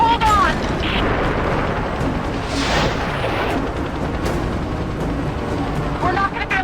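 A trebuchet hurls a fireball in Rise of the Tomb Raider gameplay, a heavy rumbling whoosh swelling in the middle amid a loud, churning battle roar, with creaking mechanism sounds at the start and end.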